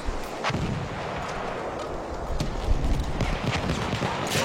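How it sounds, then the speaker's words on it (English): A grenade blast in a competitive shooter match, a dense rumbling barrage of explosive bursts and gunfire under brief commentary. "Oh, grenade!"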